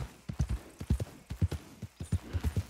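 Horse hooves from Red Dead Redemption 2 clip-clop in a steady, quick rhythm, close and fairly quiet, with no talking.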